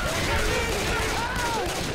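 Gunfire in Left 4 Dead 2, a dense, continuous stream of shots aimed at a Tank zombie, loud for two seconds with players talking over it.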